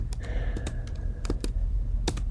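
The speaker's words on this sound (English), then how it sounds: "Instinctively, I type a space after my semicolon." Typing on a computer keyboard while writing CSS code: a quick run of sharp key clicks in an uneven rhythm, close and clear, with no talking.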